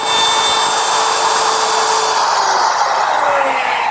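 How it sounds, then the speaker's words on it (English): A plunge router with a straight bearing-guided bit cuts a mortise in wood, giving a loud, steady high-pitched whine with the motor pitch sagging slightly under load near the end, close by. "I'm going to use my router, which is equipped with a straight cutting bit and a little ball bearing at the top of it"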